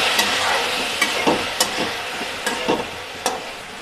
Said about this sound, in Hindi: अब हम इसमें राइस डालेंगे, उसको थोड़ा हम फ्राई करेंगे अच्छे से